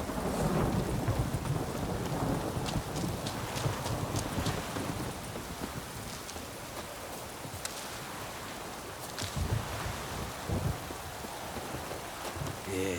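Rain and rolling thunder in the video game The Witcher 3: Wild Hunt, with steady downpour throughout and a horse's hooves clopping along, loud and close, with no voices.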